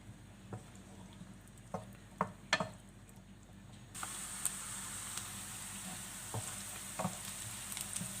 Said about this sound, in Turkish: Soğanlarım kavruldu.